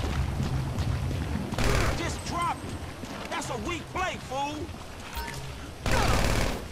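Gunfire in the Grand Theft Auto V video game during a robbery, bursts of shots in two loud blasts at the start and end, with a voice talking in between.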